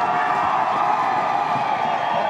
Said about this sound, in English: Big crowd on hand, and you can hear the roar.